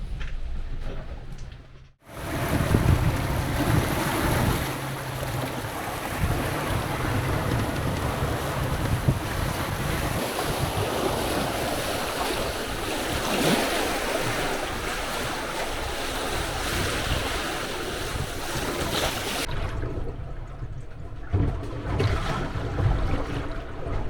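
Ocean waves and strong wind at sea in the Gibraltar Strait, a loud continuous roar of surf and gusting wind buffeting the microphone after a brief quiet start.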